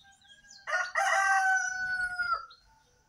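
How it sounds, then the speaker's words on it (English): A single rooster crows in a backyard, one loud, close, drawn-out cock-a-doodle-doo lasting about two seconds against quiet surroundings. "Nice rooster crow."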